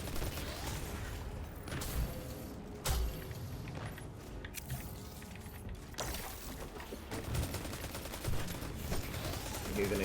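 Enemy gunfire in a Destiny Lost Sector rattles in dense rapid volleys, shots pounding against a wall, constant and loud with heavier thumps, alongside a talking voice.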